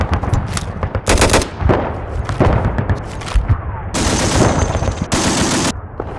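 Loud gunfire volleys crack out in several sharp bursts after a shouted fire command, with rumbling echoes between the shots.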